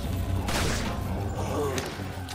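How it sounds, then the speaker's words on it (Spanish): A gunshot from the Resident Evil 4 video game, a sharp burst around the middle of the clip with a second hit shortly after, over dense game noise and background sounds. "Un balazo, papá."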